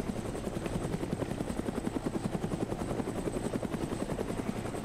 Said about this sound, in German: fliegen mit dem Helikopter zum Helikopter-Trader runter, holen uns einen neuen Helikopter